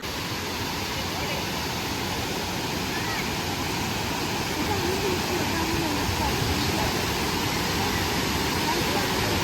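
A steady, roaring wash of falling water fills the whole clip, loud and unbroken, heard standing just below Athirappilly waterfall.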